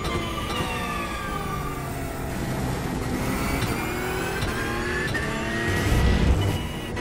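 A GT3 race car engine in the iRacing sim at VIR, a Porsche, held at full throttle with a loud whining drone that climbs through the gears, steady and close, with no talking.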